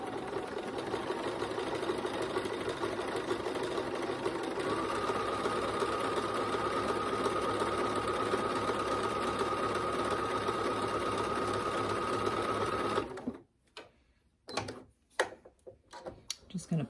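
A sewing machine runs a triple top stitch along a jeans hem, a loud, steady mechanical whir lasting many seconds before stopping, followed by a few brief handling clicks and rustles.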